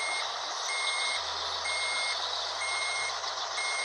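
In a bus driving video game, a bus parks while its reversing alarm repeats evenly spaced, high electronic beeps over a steady engine hum, with no talking.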